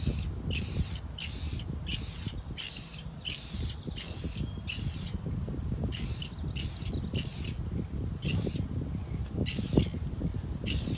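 A spray can puts clear coat onto a headlight in a rapid series of short, evenly spaced hissing bursts. The bursts are close and steady and run for about ten seconds with no talking.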